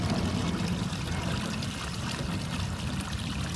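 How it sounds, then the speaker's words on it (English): Water bubbling and trickling from a pump-fed manifold in a reef aquarium sump, a steady close wash of flowing water with no break and no voices. "You can see from the bubbling there."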